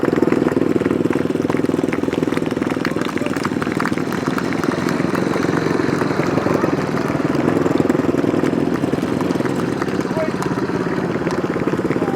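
Grasstrack motorcycle race engines at Frittenden, a continuous droning buzz of several engines held at a steady level throughout, with a commentator talking over them.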